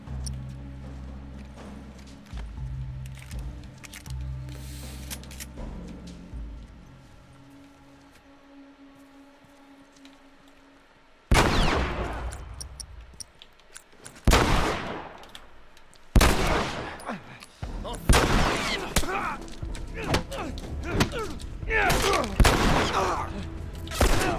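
Gunfire in the video game The Last of Us, loud sharp shots and rapid bursts arriving in clusters after a quieter opening stretch of ambient game sound, close and punchy.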